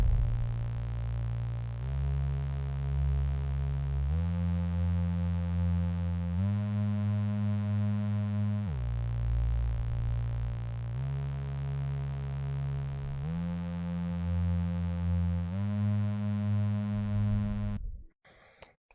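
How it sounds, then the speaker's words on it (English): A soft sine wave synth bass layer sits under an arpeggiated synth pattern, steady notes shifting pitch every couple of seconds, with no talk before it cuts off near the end. "I've got it set to a sine wave, so it's going to give us that nice kind of soft bass just to really build out the sound."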